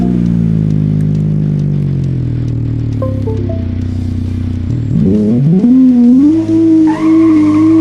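A car driving in a taxi mission in a video game, its engine drone falling and then climbing again as the tires squeal and skid loudly, close up and with no talk over it.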